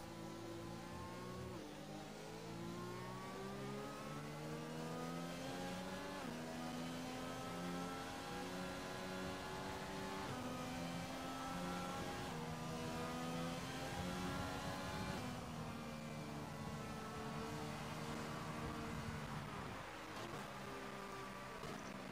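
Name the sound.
race car engines in Xbox racing video game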